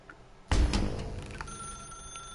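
A telephone in The Stanley Parable video game gives a sudden loud ring that starts abruptly and then decays, followed by a lingering thin tone against a quiet background.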